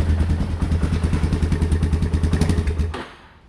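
A quad or motorcycle engine with a carburetor, run among backyard toys, starts up and idles loudly up close with a fast, chugging, rattling pulse for about three seconds before cutting off abruptly.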